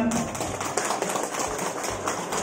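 Audience at a Dayak cultural community anniversary celebration in Landak clapping, a dense steady patter of many hands lasting throughout at moderate loudness with some crowd noise mixed in.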